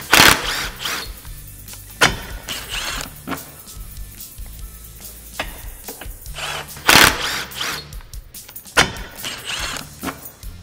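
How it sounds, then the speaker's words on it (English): Roof bolts come out of the cage on a Can-Am Commander side-by-side, with a power tool whirring in repeated bursts alongside ratcheting and metallic clicks, close and fairly loud. "now we're going to remove our bolts going through the roof into the cage on both sides"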